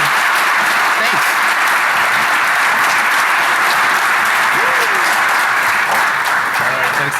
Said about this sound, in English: So big round of applause for our first time speaker.